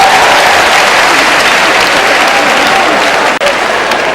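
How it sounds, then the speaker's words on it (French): Loud, dense applause from a comedy show audience, a continuous wash of clapping with almost no break, alone without talk. "Applaudissez pour les enfants de nous ici dans ce pays."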